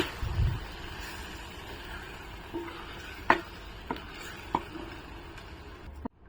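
A pea and spinach vegetable mixture is stirred in a pan, with a few scattered scrapes and taps of a spoon over a low background hum.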